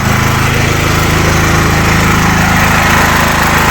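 A Dnipro-M GX-70E generator fitted with a dual-fuel carburetor runs steadily on gas, its close, loud engine drone holding an even pitch throughout with no talk over it.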